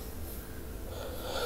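Faint, steady breathing and snorting from a horror video game, soft and continuous with no speech over it.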